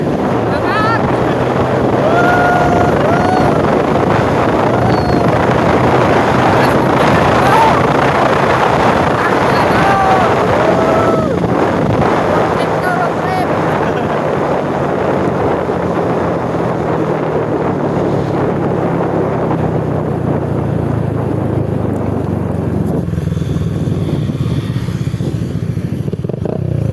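A fast boat carrying workers, its motor droning loudly and steadily throughout with heavy wind buffeting the microphone and water rushing past the hull, the engine note shifting slightly as the speed changes.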